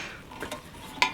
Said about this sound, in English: I guess the fact that I'm actually stirring this